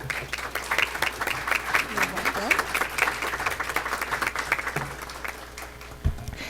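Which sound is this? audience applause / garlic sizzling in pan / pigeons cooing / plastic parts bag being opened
audience applause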